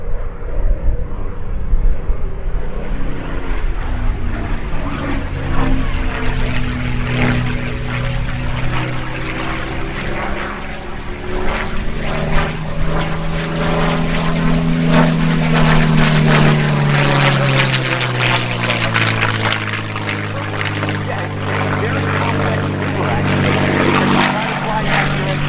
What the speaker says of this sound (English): Let's listen. Here comes Lou Horschel again